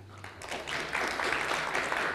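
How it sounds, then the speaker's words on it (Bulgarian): An audience applauds a speaker at a tech talk on off-grid living, automation and monitoring. The steady, dense clapping swells slightly after a soft start and holds evenly to the end, with no talking over it. "Аплодисменти за Марин."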